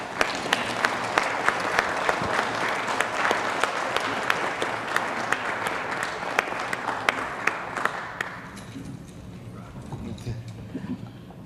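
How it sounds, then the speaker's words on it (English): Clapping at a city council meeting fills the room with steady applause that fades away after about eight seconds, leaving quiet room tone. "Let's give them all a big round of applause."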